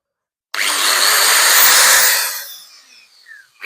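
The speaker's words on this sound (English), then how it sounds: "I'm going to use the old finger sander for this because I can't really get the grinder in there to get the paint off." A finger sander strips paint from the door of a mk1 VW Caddy pickup, whining loud and steady for about two seconds, then winding down with a fading hum before a brief restart.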